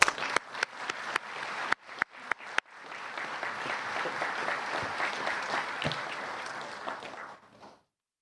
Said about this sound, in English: Let's give all of our promotional folks a big round of applause there.